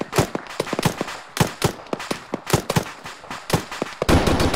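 Rapid, close gunfire from the Arma 3 military game, with sharp shots popping in quick irregular bursts, loud and without talk.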